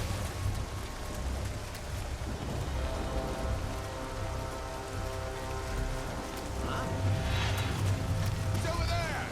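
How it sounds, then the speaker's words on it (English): Steady rain falls outdoors in the video game Nioh as a dense, even hiss that runs through the whole stretch, with someone talking over it. "we're heading outside into the rain"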